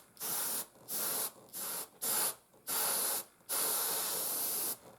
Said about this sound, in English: Now we have something clogging up our airbrush